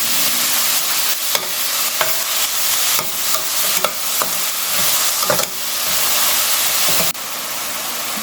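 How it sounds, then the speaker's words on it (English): Onions frying in a pan for a butter chicken masala gravy, a steady loud sizzle with intermittent scraping stir strokes, close and continuous with no talking. "So here I am cooking the onions."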